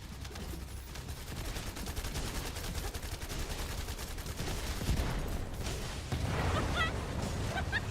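Rapid automatic gunfire from the video game The First Descendant as players shoot down a resupplying Vulgus aircraft, a dense sustained rattle of shots over game effects, growing louder toward the end.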